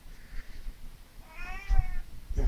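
A cat meows once, a short tonal call in the middle, over low rumbling background noise with some nearby bumps.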